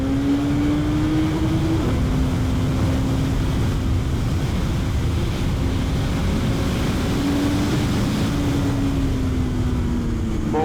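A Suzuki Hayabusa motorcycle accelerates with a steady engine drone whose pitch climbs, drops at a gear change and climbs again, heavily masked by constant wind rush, carrying two riders.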